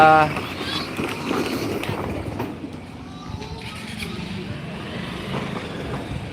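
A road vehicle rumbles past outdoors, a broad low drone that swells and then eases off across several seconds beneath people talking excitedly nearby.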